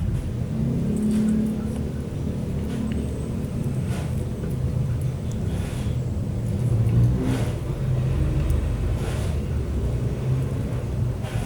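A car starter motor, running after its worn carbon brushes were replaced, spins with a steady, close, low whirring rumble that holds at an even level throughout, with no voices.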